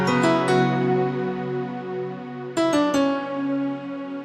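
PCM synth piano layered with electric piano, vocal and pad tones plays two chordal phrases, each opening with quick stacked note hits and then ringing into a sustained, full-bodied wash; no one speaks.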